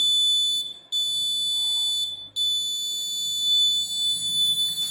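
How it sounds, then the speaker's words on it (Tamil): A laser security alarm sounds a loud, steady high-pitched electronic tone. It cuts out briefly twice and then continues, with no voices. "அலாரம் லேசர் செக்யூரிட்டி அலாரம் எச்சரிக்கை கொடுக்கும்"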